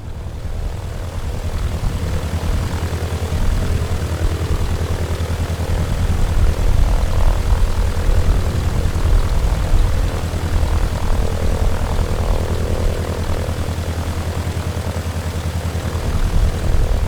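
A Bücker Bü 131 Jungmann biplane's propeller engine taxiing at Martha's Vineyard in Microsoft Flight Simulator, a steady, loud, close droning hum that holds throughout with slight swells in intensity.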